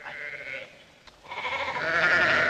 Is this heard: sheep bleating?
yes